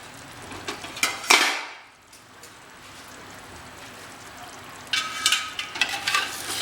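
Mutton pieces being sautéed on high flame for Bengali kosha mangsho, with a steady close sizzle, sharper bursts of frying as the meat is stirred near the start and again toward the end.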